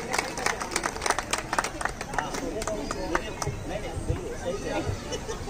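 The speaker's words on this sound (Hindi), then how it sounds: "जोरदार तालियाँ।" A crowd applauds loudly at a Bhayandar anniversary and Holi gathering, with dense rapid clapping that thins out, while crowd hubbub and talking continue underneath.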